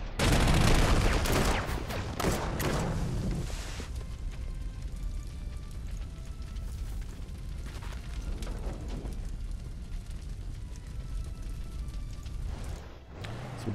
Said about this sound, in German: So, die Artillerie kann übrigens immer noch schießen.